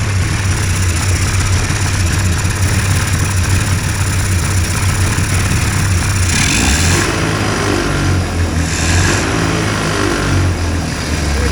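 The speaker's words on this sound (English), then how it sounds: "See what happens if I pull the throttle." Hurricane hovercraft engine running loud and close at a steady idle, then the throttle is pulled and the roar rises and roughens in the second half.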